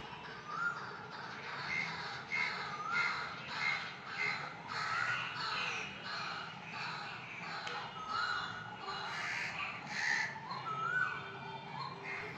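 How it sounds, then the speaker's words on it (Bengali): Crows cawing repeatedly and loudly outdoors, with other birds chirping in the background throughout. "আর সঙ্গে পাখির ডাক"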